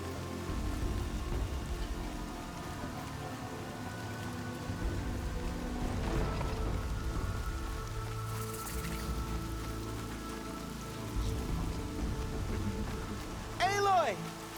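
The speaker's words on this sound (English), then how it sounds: "More rain." Steady rain falling in Horizon Zero Dawn Remastered, a constant soft hiss of drops spread throughout, faint and even, with a brief rising chime near the end.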